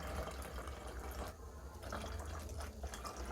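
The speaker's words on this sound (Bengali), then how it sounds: "সো দেখো আমি একে ভরছি ভরছি ভরছি" Fluid poured into a pipe in a simple flow demonstration, producing a faint steady trickle and gurgle of liquid, close and quiet throughout.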